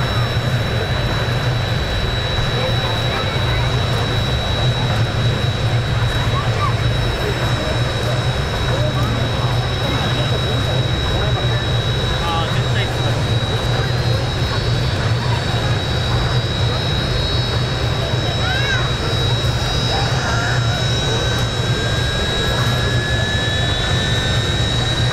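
A loud, continuous F-16 jet engine roar at an air base with a steady high whine running throughout, heard up close and unbroken.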